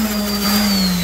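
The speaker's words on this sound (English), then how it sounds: "use an orbital with 120 sandpaper" An orbital sander with 120-grit sandpaper works the metal of an early 1900s angle finder on a bench top, giving a steady, close, continuous motor whine with a faint grinding hiss and no voices.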